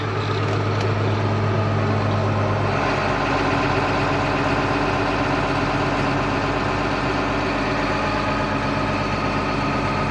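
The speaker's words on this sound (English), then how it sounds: "Gonna turn the pump on." A pump switched on to drain a pit on a farm, running with a loud, steady low-pitched engine drone that continues unbroken for the whole stretch.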